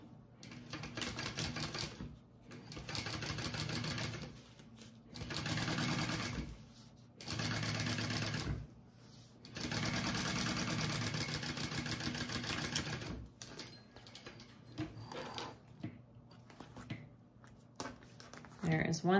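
Sewing machine top stitching through the lining piece of a Zarah bag, running in several sustained bursts of a few seconds each with short pauses between, close and steady, ending in quieter stop-and-start stitching.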